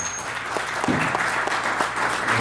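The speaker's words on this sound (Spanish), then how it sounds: "Se dan un aplauso a Cristo por la vida de Jesús." A church congregation claps together during a service, a steady patter of hands in a reverberant hall with some louder individual claps, moderately loud and without talk over it.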